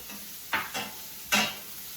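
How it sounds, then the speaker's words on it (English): Garlic and ginger stirred in a pan with a fork during fried rice cooking: three quick scraping swishes over a faint steady sizzle, close and fairly quiet. "So we're going to go ahead and stir that around just for about a minute just to incorporate everything."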